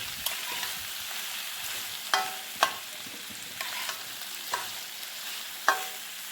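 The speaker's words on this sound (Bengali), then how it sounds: "মাছের সঙ্গে সবজিটাকে ভালোভাবে মিক্স করে নিচ্ছি।" Fish and vegetables stirred in a frying pan, a steady sizzle under a handful of sharp scraping strokes of the spoon against the pan, close and alone with no talking.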